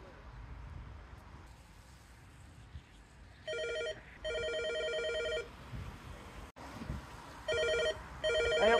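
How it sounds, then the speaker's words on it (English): Telephone bell rings in repeated bursts, each a steady electronic trill separated by pauses, fairly loud and close over a quiet room with faint background noise. "Phone's ringing."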